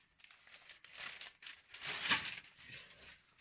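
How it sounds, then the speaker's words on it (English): A sharpened Japanese kanna plane blade slices through a piece of paper, giving close, quiet crinkling and tearing rustles in several uneven bursts, strongest near the middle. "Let's try on a piece of paper, and then we'll see if it shaves."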